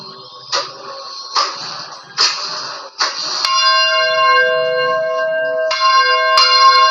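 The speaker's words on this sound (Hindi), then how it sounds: "ये तो मंदिर में जैसे होता है वैसा ही बज रहा है" A temple-style bell is struck four times in steady succession, followed by a long, bright, sustained ringing tone and two more strikes near the end, fairly close and with no talk.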